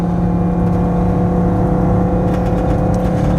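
A 1996 Winnebago Volkswagen Class B camper's small V6 drones steadily at high revs while driving uphill, a continuous loud engine hum with road noise and no talking.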